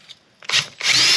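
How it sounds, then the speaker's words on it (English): A number 10 drill bit in a power drill bores through brake lining for riveting on a 1939 Caterpillar D4, two close, loud grinding bursts after a quiet start, the second one sustained. "it says it's a number 10 drill on the chart there. So that's what we're going to drill the main part through."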